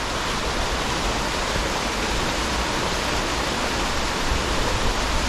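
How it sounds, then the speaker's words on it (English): Waterfall pouring over water-smoothed rocks near Beddgelert in Snowdonia, North Wales: a constant, dense, full-bodied rush of falling water, close and loud, with no voices. "I love the way that the water has shaped this waterfall."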